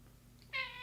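A single cat meows once, a short clear tonal call close by, rising out of a quiet background with no talk.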